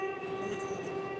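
A video-game train in the RG train tech demo sounds its horn, a loud sustained steady tone with layered harmonics held for the whole brief moment over a low mechanical rumble.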